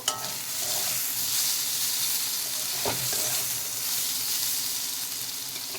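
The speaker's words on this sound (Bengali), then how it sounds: "বেগুনটা আমি হালকা করে ভেজে নিয়েছি, এবারে তুলে নেব" Eggplant fries in a pan with a dense, continuous sizzle and hiss, close and steady, with one brief scrape of a utensil partway through.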